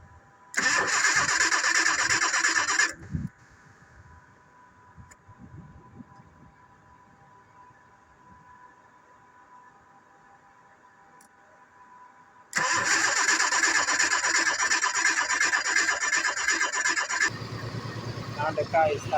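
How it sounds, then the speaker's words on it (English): A 1986 Jaguar XJ6 with a no-start fault cranks loudly for a few seconds and cuts out, then after a quiet stretch with a faint hum it cranks again and catches, running steadily to the end; close by, with talk in the lulls. "Now we are done with the plugs, so the engine is going to be turned on."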